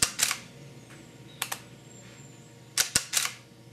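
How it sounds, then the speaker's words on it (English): Nikon D7100 shutter release in quiet mode, firing four times at irregular intervals: each a crisp double click, close and clear in a quiet room. "So the camera is a little bit more quiet when you press the shutter release."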